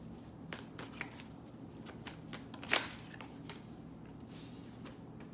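Tarot cards shuffled and drawn from a deck during a reading, a quiet run of soft papery flicks and riffles with one sharper snap near the middle, no talking.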